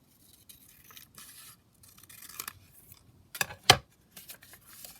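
Scissors snip paper while trimming pieces for a handmade booklet, giving a few quiet, uneven cuts with brief sharper clicks near the end, close by and alone without talk.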